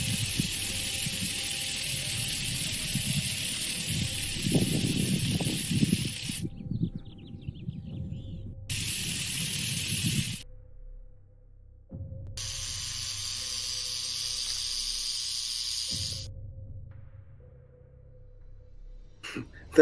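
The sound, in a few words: rattlesnake rattling and hissing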